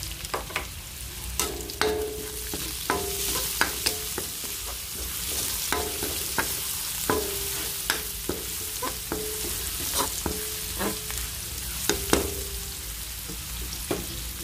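Onions and browned garlic sizzle in a pan for pinakbet, a steady frying hiss broken by frequent sharp scraping stirs of the spatula, close and fairly loud with no talking.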